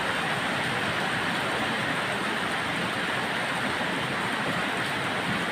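Heavy rain pours steadily in Puthupattu, Sankarapuram, Kallakurichi district, a dense unbroken wash of close, loud noise that holds even throughout with no voices.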